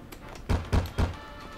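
Three heavy, dull knocks on a door in the Mafia II video game, evenly spaced and fairly close, with no talking.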